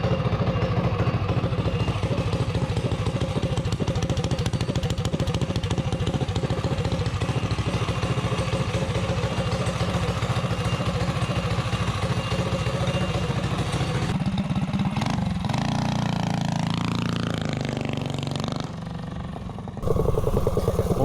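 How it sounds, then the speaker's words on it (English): A mini bike with a stock rod and added compression revs steadily at high RPM as it accelerates toward top speed, a constant buzzing engine drone that shifts pitch near the end as it slows. "So now I will take it out for a 0 to 30 and top speed"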